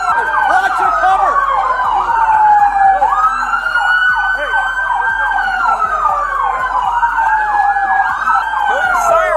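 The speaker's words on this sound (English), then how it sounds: "Kill your sirens." Police car sirens wail loud and close, with several overlapping rising and falling tones cycling continuously amid a tense armed standoff after a deputy's killing.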